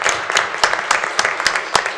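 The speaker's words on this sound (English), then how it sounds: "How about some applause for Mr. Flynn?" Audience applause at a school board meeting, a steady patter of hand claps from a small room of people, fairly close and lasting about two seconds.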